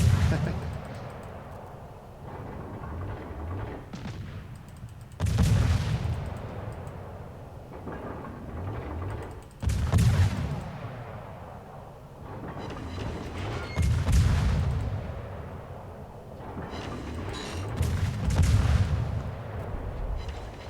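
Naval guns firing at an island in World of Warships: heavy booming salvos about every four to five seconds, each with a rumbling decay, loud over steady background game noise.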